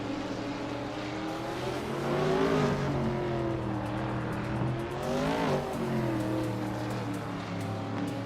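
Racing cars dueling closely for second place on a circuit, engines droning loud and steady with rising and falling pitch sweeps as they rev and pass, a continuous close roar without any talking.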